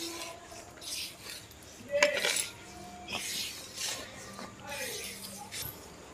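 Homemade rangoli colour powder is mixed in a bowl with a spoon, giving soft scraping and occasional light clinks. The sound is quiet and uneven, with voices in the background.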